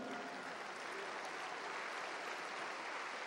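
Congregation in a church applauding continuously, a thick, even roar of many hands clapping heard from a distance, quiet overall and without gaps.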